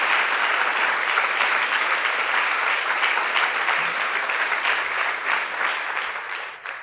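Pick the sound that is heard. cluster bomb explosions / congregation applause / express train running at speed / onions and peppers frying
congregation applause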